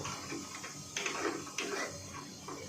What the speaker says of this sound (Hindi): देखिए तो ये पूरा अंदर तक खुद ब खुद प्रिंटर खींच लेगा